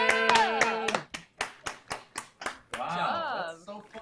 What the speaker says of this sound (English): look, the crowd goes wild